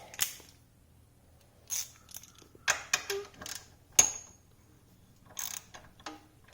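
A socket wrench retightens bolts during a chain adjustment on a Honda 400EX ATV, giving close, separate bursts of ratcheting clicks with brief pauses between them and a sharp metallic clink partway through.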